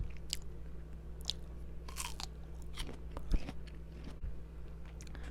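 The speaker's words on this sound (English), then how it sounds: "Half of that pretzel chip. That crunch is more satisfying." Someone bites and chews a pretzel chip up close, giving several sharp, crisp crunches spread unevenly over a few seconds against a low steady hum, with no talking.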